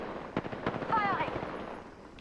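Gunfire in a battle royale video game, a few sharp shots and a short burst, fairly close, with game effects and speech-like sounds in the mix.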